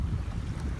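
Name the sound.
wind blowing by shallow water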